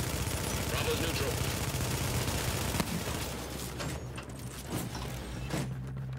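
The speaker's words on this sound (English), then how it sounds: "Hostiles are firing on a fortification at Alpha." Sustained battlefield gunfire and machine-gun bursts pound a fortification in a shooter video game, dense and loud throughout, with heavy impacts around the middle and a game announcer's voice speaking over the barrage.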